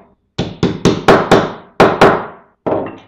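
Hammer blows flatten the rough edges of nail holes punched in a metal jar lid for a homemade bug catcher: about eight sharp, ringing metallic strikes at an uneven pace, close and loud, with short pauses between them.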